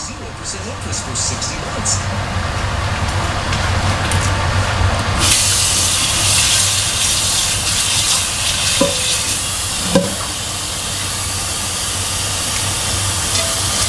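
Food cooking in a pan, a continuous frying hiss that swells louder partway through, with a couple of light utensil taps, heard close up while people talk over it.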